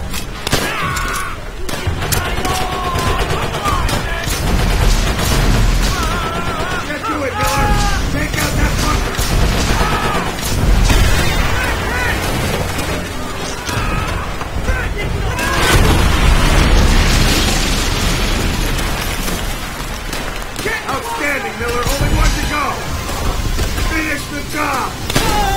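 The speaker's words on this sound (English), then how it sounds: "The grenade effect in this game is really superb." Grenade blasts and heavy gunfire rumble continuously through a Call of Duty: World at War battle, with repeated booms and crackling shots layered densely over a noisy wartime soundscape.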